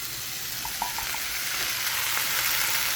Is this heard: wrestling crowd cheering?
no